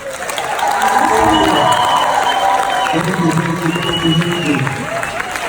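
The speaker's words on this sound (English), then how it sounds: "we are again going to give them the loudest round of applause" A crowd at a film premiere event applauds loudly and cheers, with shouting voices and whoops riding over continuous clapping.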